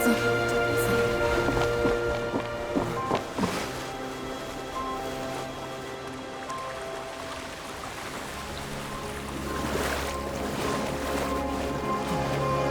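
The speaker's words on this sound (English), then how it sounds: "Look! The water's receding!" Water recedes in the Fontaine ending scene of the Genshin Impact video game, with a broad, steady wash of moving water and surf under sustained musical tones, swelling again toward the end.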